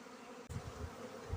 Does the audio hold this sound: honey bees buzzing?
yes